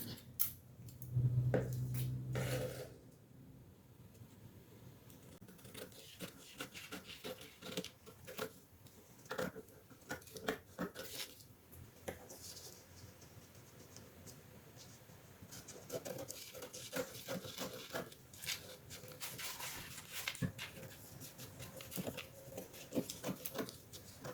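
Scissors snip through a paper sewing pattern for a deep neckline, a steady run of close, soft cutting clicks and rustles that goes on for a while with no talking.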